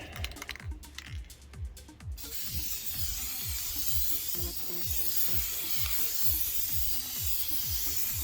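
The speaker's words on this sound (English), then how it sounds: "I kind of try to just spray along the length" A spray can of crystal clear coat hisses steadily as it is swept along the length of a Roland AX Edge keytar body, preceded by a few quick rattling clicks, close and continuous.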